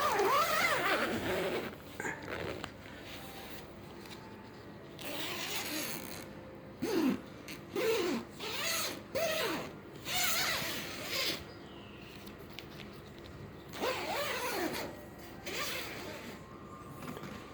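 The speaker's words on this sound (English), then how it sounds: "the outer tent doors has a two-way zipper so you can vent off" Two-way zipper on a tent's outer door pulled open in several bursts, close by, with short pauses and some rustling of fabric between pulls.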